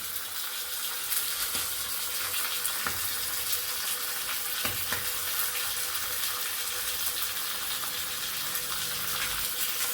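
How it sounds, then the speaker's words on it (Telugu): Chicken liver with turmeric and salt frying in hot oil, a steady loud sizzle with scattered pops and crackles throughout, no voices. "ఇది పేలుతుంది ఫ్రెండ్స్, కొంచెం జాగ్రత్తగా ఉండాలి."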